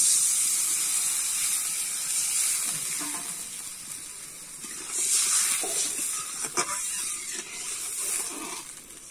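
Potato and telakucho curry simmers in a pot after water is added, giving a steady close hiss and bubbling with occasional soft stirring clinks.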